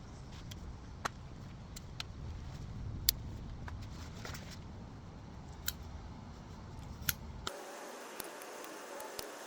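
Scissors snip rotten roots off a bird of paradise plant, giving soft, scattered clicks over a low background rumble, faint and close, with no talk.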